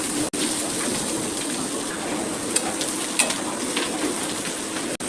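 Bitter gourd (karela) frying in oil in a pan, a steady close sizzle with occasional clicks and scrapes as it is stirred.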